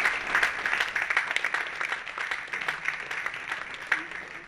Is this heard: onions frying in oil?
no